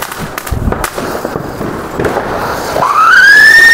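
Diwali firecrackers burst nearby in a run of loud cracks and crackles, then a rising whistle climbs steadily to the end.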